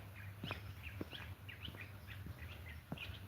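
Small birds calling in cold highland pine trees in Kenya, a steady scatter of short high chirps and tweets repeating every half second or so, moderately distant, over a low background hum with no talking.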